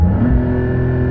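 Porsche 911 GT3 accelerating hard in sport mode, a loud, steady engine roar with strong low harmonics holding throughout the short burst, no voices over it.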